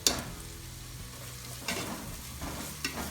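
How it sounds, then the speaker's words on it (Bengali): Ginger paste frying in a pan with spices for Bangladeshi polao, a close, steady sizzle broken by a few scraping stirs. "ফ্রাই করে নিব"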